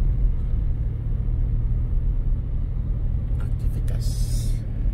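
A low continuous engine rumble of bemo minibuses and other traffic on a quiet street in Kupang, steady and fairly close, with a short hiss near the end like an air brake.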